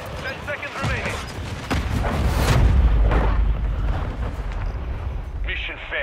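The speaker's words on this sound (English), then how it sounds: "Throwing grenade." A grenade blast in Call of Duty: Modern Warfare III, a heavy booming explosion swelling mid-clip amid battle noise, with voices talking over the action.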